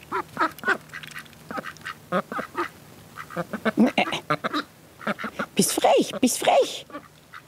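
Domestic ducks in a home garden quack repeatedly in busy, overlapping bursts close by while being fed, with a person talking over them at times.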